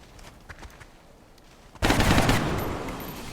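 A gunshot in the XCOM Long War video game bursts in sharply after a quieter, scattered stretch, then trails off into a loud, broad rumble with no talking.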